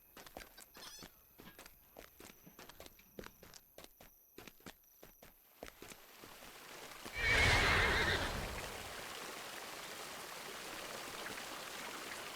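Rapid clip-clopping hooves for several seconds, then a loud horse neigh, followed by a soft trickling wash of ambient sound, from the video game The Lord of the Rings Online.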